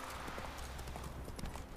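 Hooves of a horse clip-clop steadily on the ground in The Witcher 3: Wild Hunt video game, a continuous even trotting rhythm at moderate loudness, without speech.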